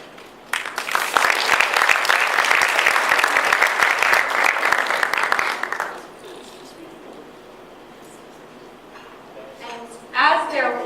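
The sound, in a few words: audience applauding panelists walking to the stage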